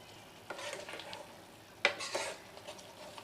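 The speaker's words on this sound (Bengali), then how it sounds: "মটরগুলোকেও একটুখানি নেড়ে দেবো" A spoon stirs cooking peas for ghugni in a metal pan, giving several scraping, clinking strokes with one sharp knock, faint sizzling underneath and no talk.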